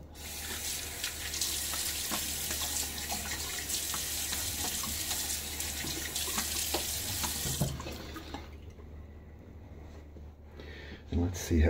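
Tap water runs steadily from a bathroom faucet into a sink, a continuous broadband rush that stops near the end, followed by a few small splashes and drips as water is brought to the face before a wet shave.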